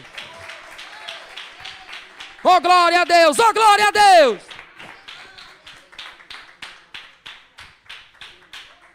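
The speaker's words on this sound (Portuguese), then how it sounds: "Só quem acredita, bata as palmas e glorifique o Senhor." A church congregation claps hands in a steady rhythm throughout, with a burst of loud, fervent shouting from a voice in the middle while the clapping carries on.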